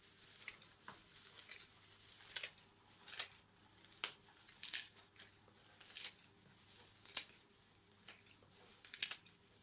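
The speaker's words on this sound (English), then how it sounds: "I'm gonna cut some sphagnum moss into small pieces here" Repeated crisp snips of scissors through sphagnum moss, irregular but steady, close and quiet, over a faint background hum.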